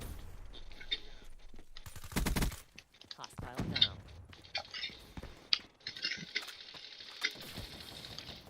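Kuda submachine gun fire in Call of Duty Black Ops 3, heard as several sharp automatic bursts mixed with game effects and someone speaking throughout.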